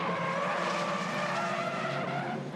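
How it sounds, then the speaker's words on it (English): Locked-up tires of a race car skid hard under braking during a V8 Ute Series race at Hidden Valley, a loud, steady screeching hiss that holds for the whole few seconds. "Jumped on the brakes, locked them up, and nowhere to go"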